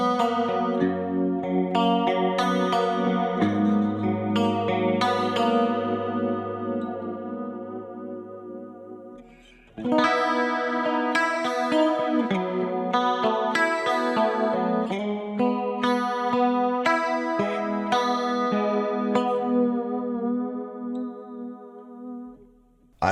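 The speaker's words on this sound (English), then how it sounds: "Let's engage this 3 chorus and hear how it sounds." Clean electric guitar through a Fractal Audio Axe FX III 80s chorus emulation, drenched in a shimmering, swirling chorus, picking chords and melodic lines with a lush, wavering tone and a brief pause midway.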